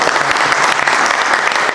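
Church congregation at an Ethiopian sermon claps loudly for God: a dense, close burst of many hands with sharp individual claps standing out, no speech over it.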